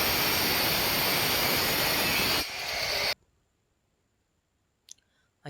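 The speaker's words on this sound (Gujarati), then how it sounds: "અહીંયા કટિંગ આવ્યું છે તો મશીન કટિંગ કરી નાખે લાદીનું" Power cutter slicing floor tiles during room tile fitting, a loud continuous whining grind for about three seconds, then stopping, followed by near silence and a couple of faint clicks.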